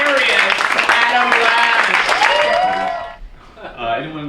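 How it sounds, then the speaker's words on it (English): Comedy theater audience applauding in a dense burst of clapping that fades out near the end, with some cheering mixed in and a voice briefly following. "need you to start a rolling clap"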